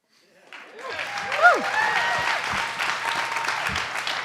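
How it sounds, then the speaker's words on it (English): Applause swells from silence into a steady, broad clapping from a sizable crowd at an accelerator demo day, with a few cheers and whoops mixed in. "one more huge round of applause for this amazing class"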